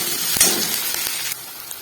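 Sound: onions, ginger, garlic and chillies frying in pan

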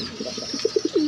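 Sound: Afsan grizzle pigeons cooing

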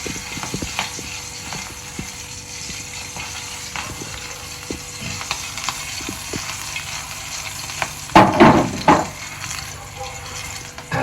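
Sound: food frying and sizzling in a little oil

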